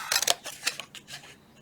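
Scissors snip paper for a Tic Tac box craft, a quick series of short, crisp cuts close by, louder at first, then lighter snips.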